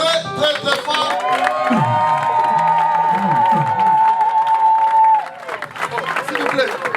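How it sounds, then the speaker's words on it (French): Church congregation at a tenth-anniversary service and pastor consecration cheering and applauding loudly, a dense sustained roar of clapping and shouts with one long held vocal cry riding over the crowd for several seconds, voices heard throughout. "Et l'église acclame très fort."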